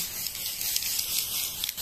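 Short hissing bursts of Ice LerSkin whitening sunscreen spray from an aerosol can, misted onto the face from a distance, steady and close for under two seconds with no talking.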